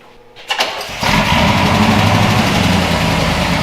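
The engine of a 1962 Chevrolet pickup truck cranks briefly, then catches at about one second and settles into a loud, steady running rumble, close by.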